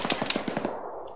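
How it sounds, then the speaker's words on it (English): Automatic gunfire in the Arma 3 military video game: a quick burst of roughly six to eight shots, moderately loud, trailing into a fading echo. "I'm getting shot by somebody and I can't see who"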